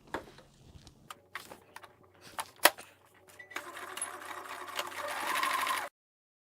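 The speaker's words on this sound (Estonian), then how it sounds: "Ja hakkan õmblema siit, kus on meie murdejoon." A sewing machine stitching fabric binding along a fold line, first in short stop-start bursts with clicks of handling, then a steady whirring run of several seconds before it stops.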